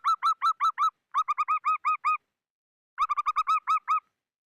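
Zebra dove (perkutut) cooing in three clear, loud bursts of rapid, rhythmic notes separated by short pauses, heard alone with no talk.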